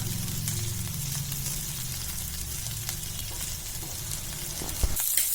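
Prawns fry on a tawa griddle with a steady, close sizzle and a low bubbling undertone, ending with a brief clatter.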